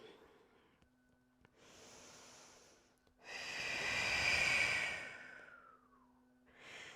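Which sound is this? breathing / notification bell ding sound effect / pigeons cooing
breathing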